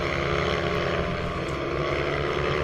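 Ohvale 160 minibikes race past at a Teesside circuit, a loud, steady, high-pitched buzz of small engines close by with no break in the sound.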